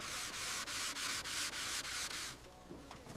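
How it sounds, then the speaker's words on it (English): Abrasive sanding on a replacement panel section of a restored airplane, close rhythmic strokes repeating about every third of a second, then stopping as faint handling noises follow. "Keep sanding that section."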